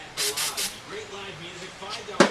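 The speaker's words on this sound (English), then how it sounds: "I'm going to spray a little juice in the carburetor" Three quick bursts of starting fluid spray into a carburetor near the start, with a faint voice murmuring between them and a sharper hiss-thump at the end.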